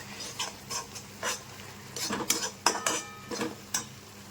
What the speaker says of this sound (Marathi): असं बेसन सोडायचं, असं चमच्याने असं करून हलवायचं